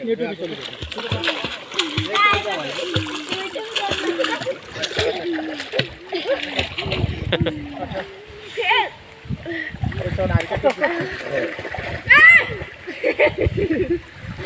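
People swim in water, with irregular splashes and sloshing up close, mixed with near-constant talk and calls from people in the water.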